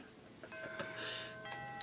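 A doorbell chime in the video game Persona 4 rings once, clear and sustained with ringing tones, playing alone without talk.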